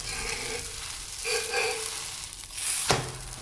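An onion-and-tomato-topped South Indian uttapam sizzles steadily on a hot pan after being flipped, with a soft, continuous crackle and a sharper burst near the end.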